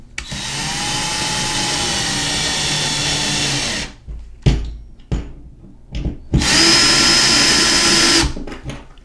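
A power drill drives screws into a toilet paper holder, with a long steady whine that stops, then a few short bursts and clicks, then another sustained run, all close and loud.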